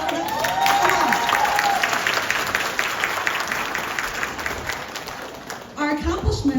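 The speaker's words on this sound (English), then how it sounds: "Can I give an applause for that?" Audience applause with some cheering at a gathering of Hmong teachers in the USA, a dense sustained roar of clapping and crowd noise that slowly thins, with brief voices and a louder burst near the end.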